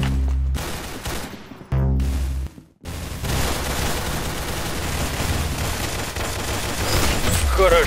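Gunfire in the Roblox shooter game Arsenal, with rapid bursts of shots and booms, loud and dense, with brief pauses near the start and continuous firing after, heard over game sounds.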